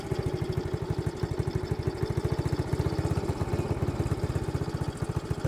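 A small Cushman engine idles steadily after an idle screw adjustment, its rapid, even low thumping close and loud, running alone without voices.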